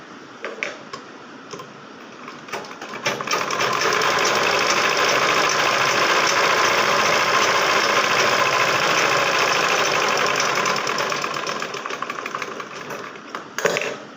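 Saree blouse fabric is stitched on a sewing machine that runs in a steady rapid ticking whir for about ten seconds, with softer start-and-stop bursts at either end and no talking.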